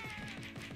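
A house cat gives a quick run of about five close, loud meows in steady succession while being picked up, with no talking over it.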